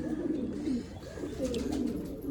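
Pigeons coo softly and repeatedly at close range, low throaty warbles overlapping with faint background noise.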